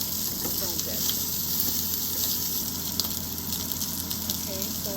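Sausage pieces fry in a pot of oil on a home stove, a steady bright sizzle with crackling pops, close and continuous, with faint background voices and light clatter underneath.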